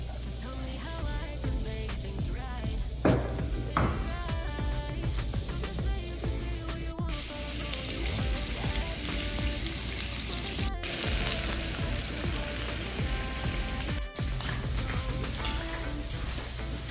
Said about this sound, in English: While we're cooking, letting it fry